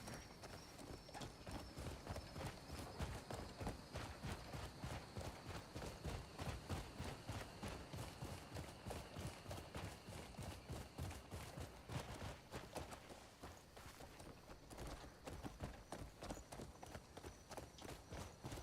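Rhythmic clip-clop of horse hooves at a brisk steady trot in the video game Crimson Desert, continuous and fairly close, with a faint tonal hum in the background.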